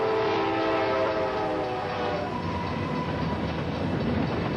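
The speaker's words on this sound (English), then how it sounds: "I felt the train brushing against my clothing as it went by" A train passes very close by, a loud broad roar with a faint horn tone fading early, continuous and near throughout.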